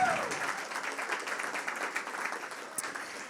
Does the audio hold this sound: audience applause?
yes